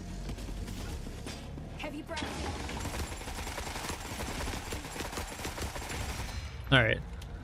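Turrets firing in the video game The Forever Winter, a sustained crackle of rapid gunfire bursts with a louder burst near the end, with a voice speaking over it.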